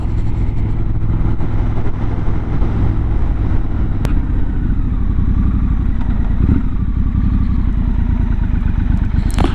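Steady, loud engine drone of a Triumph Scrambler 1200 XE motorcycle on a test ride, heard up close and continuous with a rumbling low end, a brief sharp click near the middle, and no talk.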